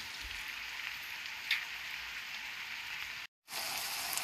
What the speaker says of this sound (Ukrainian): Все так гарно смажилось уже 10 хвилин